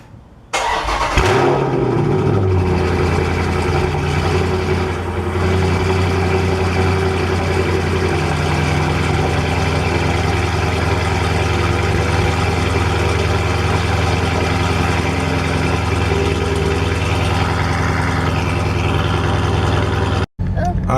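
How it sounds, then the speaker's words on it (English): A Dodge car cold starts with a quick crank and catch, then settles into a loud, steady idle close by for the rest of the stretch, with no talking over it. "I'm gonna give you guys a cold start though. You know, it's not a Dodge unless you get a cold start."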